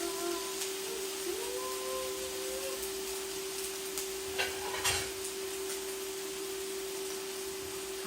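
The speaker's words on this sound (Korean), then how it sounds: "고기가 보들보들하고 굉장히 맛있게 구워져요" LA galbi beef short ribs sizzle on the grill as a soft, steady hiss over a constant faint hum, with occasional light clicks and no voices.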